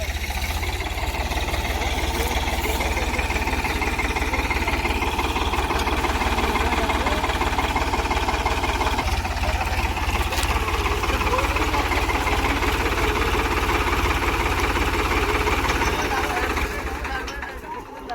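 A tractor engine runs steadily and loudly throughout, with a deep knocking idle, as it strains to pull a trolley stuck in a wet, muddy field; faint voices chatter in the background.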